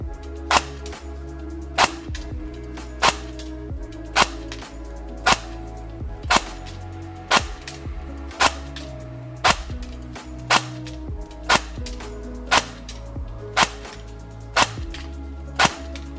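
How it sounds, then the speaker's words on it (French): Upgraded airsoft M14 replica on a Cyma base firing single shots, about a dozen sharp snapping cracks spaced roughly a second or more apart over a low steady hum, close and clear with no talk. "Test de tir de mon M14 full upgrade"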